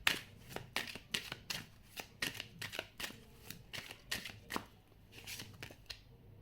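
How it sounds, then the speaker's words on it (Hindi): A tarot deck is riffled and shuffled in a quick series of crisp, papery flutters and soft card slaps, irregular bursts at close range, ending as a card is drawn in a quiet room. "एक कार्ड इस डेक से निकालते हैं।"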